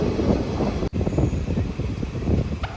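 A passenger train running on the Palakkad–Nilambur line, loud continuous rumble and wheel roar with wind buffeting close to the microphone, briefly cutting out before the clatter resumes.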